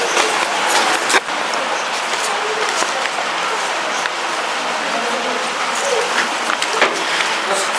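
An audience at a Ramayan quiz competition applauds in a dense, continuous wash of clapping that holds steady and loud from start to finish, with a few sharper claps standing out.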